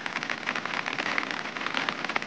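A flooded village river in the hills rushes hard during monsoon rain, a continuous dense hiss of churning water with scattered splashy crackles, steady and unbroken throughout.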